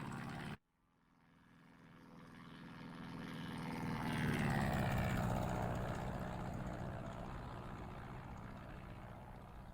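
A Christen Eagle II propeller plane in DCS World flies inverted over the runway, its engine cutting out sharply then droning back in, swelling louder and changing pitch as it passes close, steady afterward.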